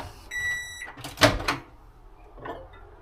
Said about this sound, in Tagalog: Remove cup from the microwave by handle